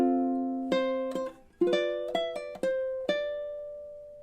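A ukulele plays measure 21 of a song as a sparse sequence of about seven plucked notes and chords, each ringing out clearly and fading, with no voice.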